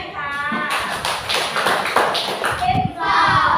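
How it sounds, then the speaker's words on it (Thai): Children in a classroom clap for a classmate during a comparison lesson, a burst of scattered close hand claps and taps mixed with voices and shuffling. "ปรบมือให้เพื่อนหน่อยค่ะ"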